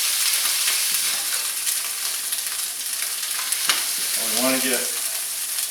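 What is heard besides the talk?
smash burger patty with onion sizzling, pressed with spatula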